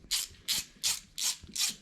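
A hand ratchet clicks through five quick, evenly spaced bursts while tightening bolts on LB7 diesel injectors, close and fairly quiet with no talking.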